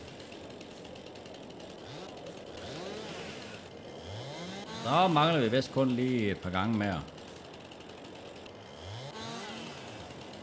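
A chainsaw saws up logs outdoors, revving in several loud bursts that cut through in the middle, with someone talking over the quieter idle before and after.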